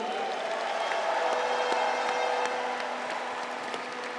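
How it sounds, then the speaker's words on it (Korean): A crowd at a political party convention applauds newly elected council members, sustained dense clapping heard at a distance in a large hall, fairly soft and without speech. "선출되신 최고위원님들과 아쉬움을 삼키신 후보님들을 위해서도 힘찬 응원과 격려의 박수 부탁드립니다."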